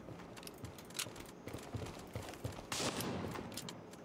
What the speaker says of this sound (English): There's an NPC that I'm trying to shoot.